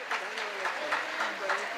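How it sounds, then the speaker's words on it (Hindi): An audience at a Jain diksha festival applauds to welcome new staff. Clapping comes in rhythmic, moderately loud swells over a short stretch, with voices mixed in. "मैं चाहता हूँ जोरदार तालियों से अभिनंदन।"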